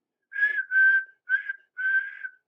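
A whistle, voiced for Thomas the tank engine, sounds in four clear bursts, steady-pitched and fairly loud, with short gaps between them and nothing else around.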